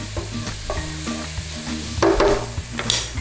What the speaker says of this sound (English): Put some black pepper in. Give it a little stir around.